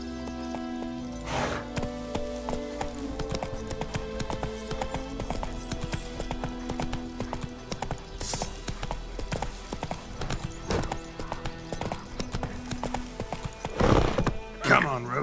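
Roach the horse in The Witcher 3 keeps up rhythmic hoof clip-clops, with a few sharp neighs and snorts rising above the game music and ambience, loudest near the end.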